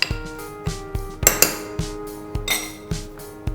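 A spoon knocks steadily against a bowl while crushed Biscoff biscuits are mixed with butter, giving about a dozen sharp, ringing metallic taps in a loose, even rhythm, close and clear with no talking.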